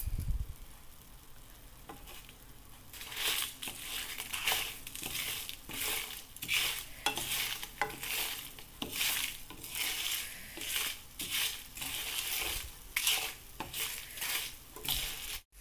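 Whole coriander seeds and red chilies fry in a pan with a steady close sizzle and crackle, stirred with frequent scraping and rustling strokes throughout, with no talk.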